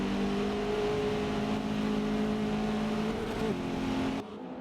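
Race cars in a Forza online race, a steady whining engine drone holding pitch for several seconds before cutting off abruptly, with no talk over it.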